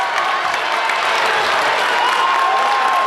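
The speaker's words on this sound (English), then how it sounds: "The crowd is clapping like they may have called some kind of something here." Crowd clapping and cheering fills a high school basketball gym during a Wildcats versus Mount Pleasant game, a steady, loud wash of applause and voices that holds across the whole moment.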